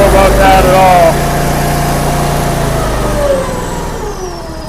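A new log splitter's engine runs steadily at a mid-pitched drone, loud and close, with a slight drop in level partway through as the hydraulic cycle changes.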